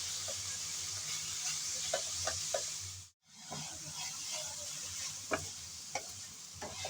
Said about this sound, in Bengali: এভাবে নেড়ে চেড়ে ভালোভাবে মিশিয়ে নিতে হবে রসুন, পেঁয়াজ আর মরিচের সাথে